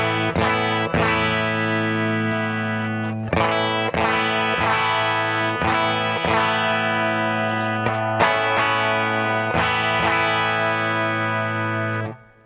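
Distorted electric guitar through a Tone Sculptor EQ pedal with the 800 and 5.6 bands boosted: a sustained low note with repeated strummed chords over about twelve seconds, loud and close, no voices.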